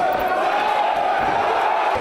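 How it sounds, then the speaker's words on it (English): A large, noisy boxing-match crowd roars and cheers continuously at a steady, loud level, a dense wash of many voices with no individual words standing out. "Cheered on by an enthusiastic and noisy crowd, the boxers didn't pull any punches"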